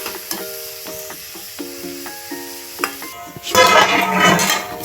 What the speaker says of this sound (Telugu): ఇప్పుడు ఉల్లిపాయలు వేసేసుకుందాం. ఒకసారి కలిపేసుకుని ఒక 5 నిమిషాలు మగ్గనిద్దామండి.